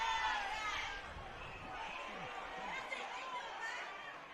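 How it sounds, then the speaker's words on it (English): A worked-up crowd at a rugby league knockout match at Oakes Oval, Lismore, makes a steady roar of chatter and shouting, with nearer voices talking over the distant crowd noise. "the crowd are getting a bit worked up here as well"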